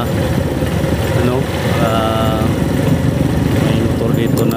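A motorcycle engine idles close by with a steady rumbling chug throughout, while a person talks over it.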